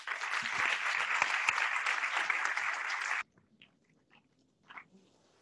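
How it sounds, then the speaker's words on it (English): A tech meetup audience in Barcelona applauding as a speaker is welcomed, with a steady wash of many hands clapping that stops abruptly after about three seconds, followed by near silence with faint scattered rustles. "So please, a round of applause for Carlos."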